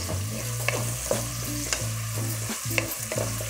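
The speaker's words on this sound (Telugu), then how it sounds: "కొంచెం ఆనియన్స్ వేగాలి లైట్గా" Onions with salt frying lightly in a pan give a steady sizzle, with a spoon stirring through them in repeated scraping strokes, close and without talk.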